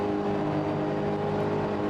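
V8 Supercars racing at Daytona in iRacing, a steady drone of several engines at speed running continuously without a break, with no talk.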